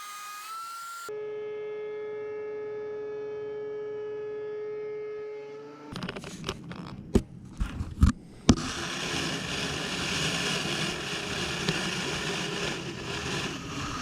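A Dewalt DW735X thickness planer hums with a steady motor whine, then a board feeds through with a few sharp knocks before the cutting turns into a loud, continuous roar.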